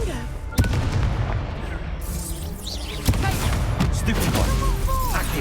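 Confringo blasting spell cast in the Hogwarts Legacy video game, sharp explosive bursts and booms over busy game effects, with two stronger impacts standing out and a voice shouting over the action.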